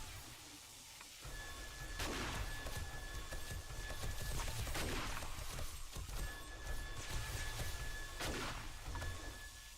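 Gunshots ring out in the zombie survival game 7 Days to Die, three or four sharp, broad bursts a couple of seconds apart over a steady low rumble, with no talking.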